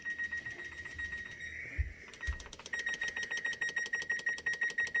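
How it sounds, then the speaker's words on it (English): A kitchen timer is set for baking buttermilk biscuits: a thin electronic tone sounds, pauses with a couple of soft thumps, then rapid, evenly spaced beeps repeat steadily to the end. "So we're going to start our timer."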